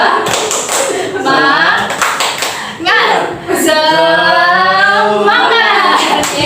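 Children in a classroom perform the 'tepuk semangat' clapping chant, sharp rhythmic claps mixed with sung, chanted young voices, loud and close.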